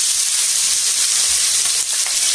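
Pork frying in hot oil in a frying pan, a steady close sizzle and crackle that fills the whole moment without pause.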